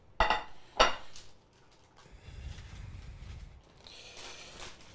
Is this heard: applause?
no